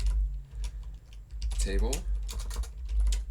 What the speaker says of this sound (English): We're going to type in create